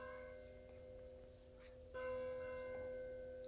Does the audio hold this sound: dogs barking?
no